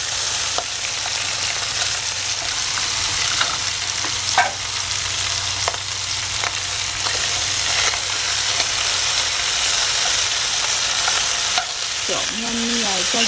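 Pork hock and garlic are stirred in a cast iron pot, a continuous loud sizzle with scattered scraping and clinking of the utensil against the pot, close up and without speech.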